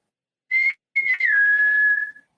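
A person whistles to imitate a whistle heard in the woods near a mountainside on Mt. Rainier: a short high whistle note, a brief pause, then a longer tone that slides down slightly and holds steady before fading, clear and close.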